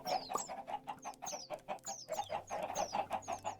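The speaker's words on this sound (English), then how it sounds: "I am hearing like chickens and parrots" Chickens clucking in Minecraft, a steady run of short, rhythmic clucks repeating close by with a faint high whistling note mixed in, no talking.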